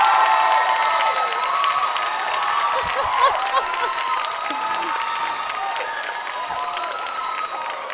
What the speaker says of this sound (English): Are you satisfied with that applause?